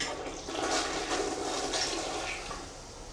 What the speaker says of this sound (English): They were all at the point where they were almost overflowing every time we would try to flush them.